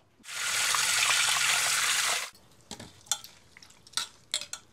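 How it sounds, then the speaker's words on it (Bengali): A fish head is washed in water: a steady rush of running water for about two seconds, then a series of close splashes and sloshes as it is rubbed and rinsed, with no voices. "এইভাবে করে 2-3 ধোয়া দিয়ে নেব"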